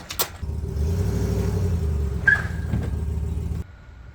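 A truck with logs in its bed backs up, its engine rumbling low and steady with a slight rise in revs, and a short knock partway through before it stops abruptly.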